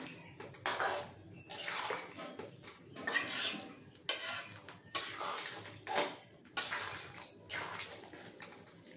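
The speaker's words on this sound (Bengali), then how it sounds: "কর্নফ্লাওয়ার গুলা জলটা দিয়ে দিলাম, নাড়তে থাকবো" Chilli chicken with cornflour slurry being stirred in a pan, a utensil scraping and clattering against the metal in repeated bursts with wet, sloshing texture, close and moderately loud with no talking.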